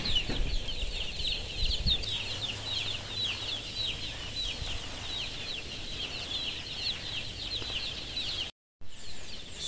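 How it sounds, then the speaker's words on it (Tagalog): Young chicks a few days old in a brooder setting: many high, thin peeps overlap in a dense, continuous chorus at steady level, with a brief cut near the end. "ang atin pong mga sisiw ay kumakahig, naglulublob sa lupa, sa buhangin, nagre-relax, nagpapasikat sa araw"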